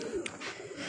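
A rooftop-kept Pathan pigeon cooing softly for under a second, a faint low throaty murmur alone with no talk.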